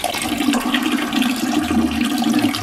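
Wash water rushing out of a steam boiler during a cleaning, a continuous loud gushing and splashing flow that holds steady throughout, close by.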